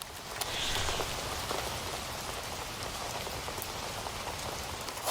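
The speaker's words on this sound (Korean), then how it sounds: "흙 위에 떨어지는 빗소리" Steady rain patters densely onto soil, a constant close hiss of drops with no voices.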